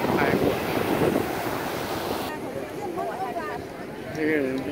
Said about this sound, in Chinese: 海浪往上面拍过。